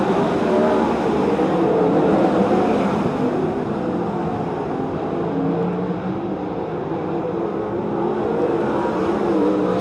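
Sprint cars circling Silver Dollar Speedway during a race, a dense continuous engine roar from the pack that swells and eases slightly as cars pass, with no voices.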